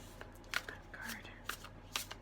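Tarot cards are shuffled by hand close up, with soft riffling and several sharp slaps as cards snap together, one flipping out; a voice is faintly present.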